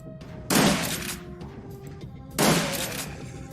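Two heavy shotgun blasts in Shadowrun Dragonfall, spaced about two seconds apart, each a loud sharp crack with a lingering tail over a steady low background.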